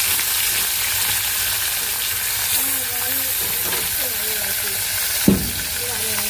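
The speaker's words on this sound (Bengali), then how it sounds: "প্রথমে মাছগুলো আমি ভেজে নিই" Small sarputi fish frying in a pan give a steady, soft sizzling hiss throughout, with faint stirring scrapes and a sharp clatter near the end.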